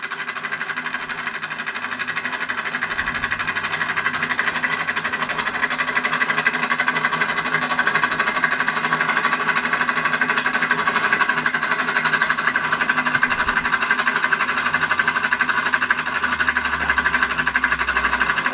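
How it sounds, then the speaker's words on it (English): A rapid, steady mechanical chuffing and rattling of a Burnac Vulcan model steam engine running continuously at an even pace, close by and with no talking. "They are a nice little steam engine."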